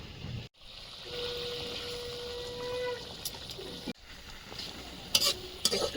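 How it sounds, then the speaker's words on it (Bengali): Cumin and chili paste thinned with water poured into a pan of frying pencil bogo fish for a jhal curry, a soft sizzle and bubbling with scraping stirs and a few sharp clinks, fairly quiet. "জিরে মরিচ বাটাটা একটু জল দিয়ে হালকা করে নিয়েছি এবার দিয়ে দেবো"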